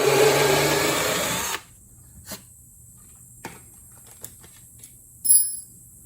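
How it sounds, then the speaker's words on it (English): A power drill bores a hole through a wooden drawer cabinet during a van conversion, one loud sustained whir for about a second and a half, then cutting off to near silence with a few faint clicks and a short knock. "then drill the hole through the cabinet"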